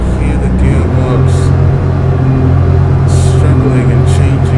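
A simulated bus in OMSI 2 on a Hong Kong route, its faulty gearbox straining and shifting up and down beneath a loud, steady engine rumble that swells slightly as the gears change.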